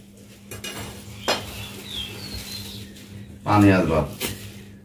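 A knife cuts into a watermelon, giving a few crisp clicks and knocks against a board or plate. The cuts are spaced apart, and a person talks nearby between and over them.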